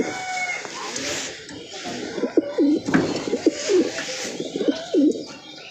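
Pigeons kept as flying birds coo nearby in a run of soft, rolling, repeated calls, over faint background rustling and noise.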